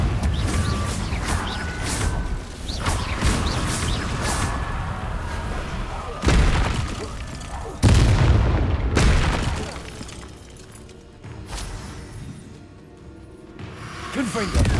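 Confringo blasting spells exploding in Hogwarts Legacy, loud booming blasts at irregular intervals over a rumbling mechanical game background, with a voice speaking between them.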